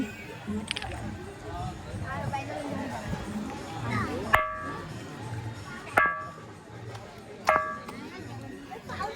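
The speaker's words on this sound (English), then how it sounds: "there is a rock which makes the sound of ringing the bell" Three sharp metallic rings from a rock struck like a bell sound at intervals over a background of crowd chatter and outdoor bustle at Khanderi Fort, an island fort.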